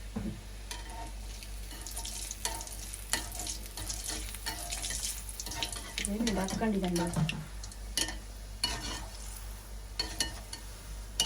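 Steady sizzle and crackle of gulab jamun frying in oil turned down to low heat, with a louder bubbling burst midway and occasional clinks and stirring sounds throughout.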